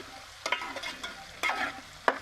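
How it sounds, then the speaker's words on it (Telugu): Onion pieces frying in a pan for bitter gourd onion masala, turned with a spatula: three bursts of scraping stirring over a steady close sizzle, with no talk. "ఇవి పేస్ట్ లాగా ఒకసారి మధ్య మధ్యలో మూత తీసి ముక్కలు మాడకుండా ఇలా తిప్పుకొని"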